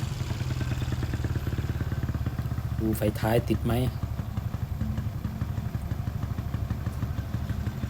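A 2005 Honda Wave 125i motorcycle engine with a charging fault idles steadily, then revs briefly in a couple of quick throttle blips before settling back, close by with someone talking over it.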